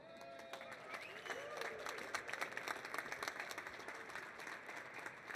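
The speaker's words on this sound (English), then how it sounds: "I'm sure they're going to need a much bigger applause than the ones we did earlier" Live-stage audience applauding as panelists walk on at a NADA 2026 session, a moderately quiet, fairly even clapping from a crowd in a large hall, with faint voices and some tonal sounds mixed in underneath.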